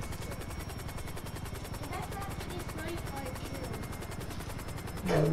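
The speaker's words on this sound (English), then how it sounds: "Why does this helicopter fly funny?" Helicopter in the video game GTA V, a steady chopping rotor drone with rapid even pulses that holds throughout, then a louder burst near the end.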